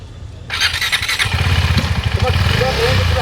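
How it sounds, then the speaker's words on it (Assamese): Motorcycles set off on a long bike expedition, engines revving and rising into a sustained loud drone after a quiet start, with voices mixed in underneath. "তেওঁলোক এতিয়া বাইক লৈ ষ্টাৰ্ট হ'ল আৰু এই জাৰ্ণি আৰম্ভ কৰিব গৈ আছে।"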